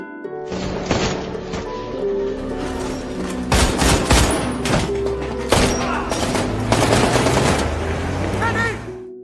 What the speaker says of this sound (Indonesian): Suara tembakan terdengar, membuat situasi menjadi kacau.